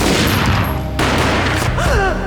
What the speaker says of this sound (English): A gunshot boomed